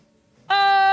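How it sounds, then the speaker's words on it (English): A cat meows in the Coral Island video game, one sustained tonal call starting halfway through and holding loud and close to the end after near-silence. "Can you hear her meowing?"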